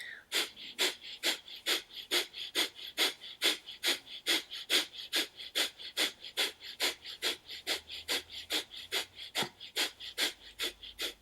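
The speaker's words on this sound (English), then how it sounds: "Kapalabhati. Keep Mula Bandha engaged." Kapalabhati yoga breathing, a steady run of around twenty-five sharp, forceful nasal exhales in quick even rhythm, close and clear with no talk over them.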